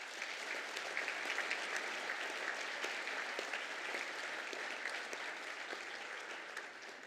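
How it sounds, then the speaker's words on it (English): Audience at a graduation ceremony gives a round of applause for the Soundpost Ensemble musicians, a soft, distant, even wash of many hands clapping that holds steady for several seconds and fades slightly at the end. "We might offer them a round of applause"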